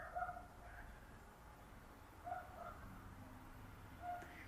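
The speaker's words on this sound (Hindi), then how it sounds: "दिन रात कुत्तों का भूखना यहाँ चलता रहता है" Dogs barking repeatedly at a distance around a meditation retreat, faint yelps recurring every couple of seconds over a low steady ambient hum.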